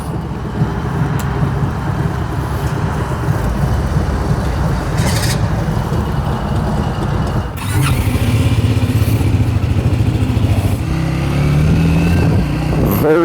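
A Triumph Speed 400 motorcycle accelerating hard in a very short first gear, engine loud and close with rising revs, a brief shift, then pulling strongly again, wind and road noise underneath.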